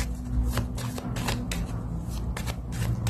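Tarot cards are shuffled up close in a run of quick riffling bursts and soft slaps, repeating irregularly under a faint background hum.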